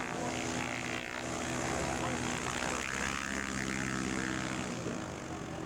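A small propeller plane drones loudly and continuously nearby, its engine buzzing steadily with a faint shift in pitch as it runs.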